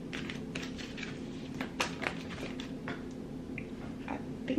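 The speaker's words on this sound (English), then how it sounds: "Let's shuffle through this one more time." Tarot cards shuffled by hand at close range, a quiet irregular patter of soft flicks and riffles with a few sharper snaps, over a low steady room hum.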